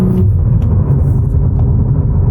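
A Cadillac CT4-V Blackwing's twin-turbo V6 rumbles steadily through its aftermarket exhaust, a loud, continuous low drone with no talk over it.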